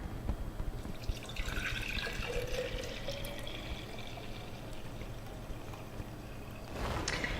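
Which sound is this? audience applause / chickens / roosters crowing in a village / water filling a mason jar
water filling a mason jar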